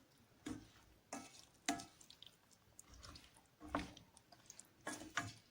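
Dried beans with red pepper flakes sautéing in a pan, a soft steady sizzle broken by several distinct clacks and scrapes of stirring, quiet and close.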